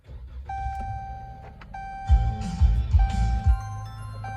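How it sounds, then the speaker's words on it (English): A car's repeated electronic warning chime beeps, then the engine cranks and catches with a few heavy, close rumbling bursts while the chime keeps sounding. "So I'm just going to start the car, and we're going to hope for the best."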